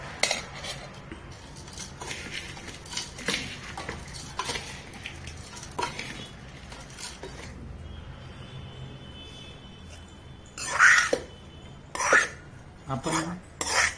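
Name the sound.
stirring matki bhel ingredients with a spoon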